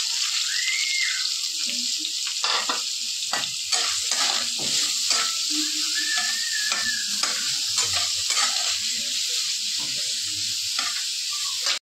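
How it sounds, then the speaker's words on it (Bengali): Chopped onion fries in hot oil seasoned with dry red chilli and bay leaf, a steady loud sizzle running throughout with repeated scraping stirs of a spatula in the pan, no talking. "এবার আমরা কাটা পেঁয়াজটাকে ভাজতে দিয়ে দিচ্ছি"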